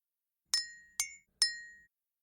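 Three clear, bright clinks of a teaspoon gently tapping a glass of water, evenly spaced with ringing tails and silence between them.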